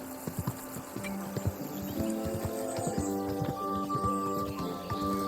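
In the video game Kingdom Come Deliverance 2, a horse's hooves clip-clop at a steady walking rhythm beneath a layered ambient music and environment bed, moderately loud with no speech.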